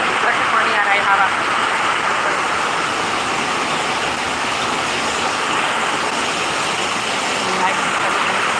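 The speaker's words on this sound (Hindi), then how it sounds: "पानी भी काफ़ी है, हवा भी तेज बहुत ज़्यादा।" Heavy rain and strong wind make a dense, unbroken roar of water rushing and pouring, loud and steady throughout with little variation.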